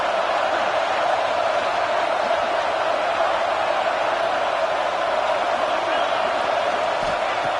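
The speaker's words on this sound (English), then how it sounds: "this crowd is fired up. Listen to this noise here." A steady, roaring football stadium crowd fills a large space, continuous and loud throughout, with no distinct breaks or individual voices standing out.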